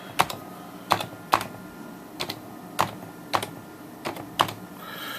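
Keystrokes on a computer keyboard connected through a USB to PS2 adapter, nine or so crisp clicks in short irregular bursts, close and clear with no talking.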